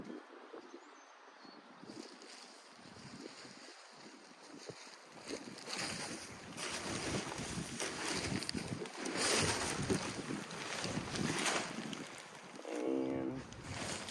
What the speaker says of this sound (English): it's pretty breezy out